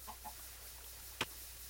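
Minecraft chickens in a chicken coop give two soft, quick clucks near the start, followed later by a single sharp click over a faint steady hum.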